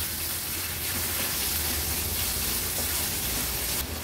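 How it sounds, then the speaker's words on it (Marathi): Chopped onion and green chillies frying in oil in a pan over a medium flame, a steady close hiss and crackle that continues evenly throughout. "गॅसची फ्लेम आता मीडियमवर ठेवून कांदा थोडासा शिजवून घेते।"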